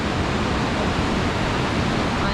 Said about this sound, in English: We are down at Hermit Rapids.